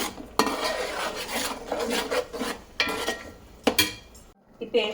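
Masala frying for Bhimavaram-style fish curry, stirred in a pan over medium flame: continuous sizzle with repeated metallic scrapes and clinks of a spoon against the pan, close by.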